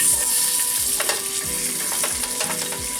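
Salmon searing in oil in a hot pan, a steady loud sizzle running throughout with faint scrapes and clicks of a utensil.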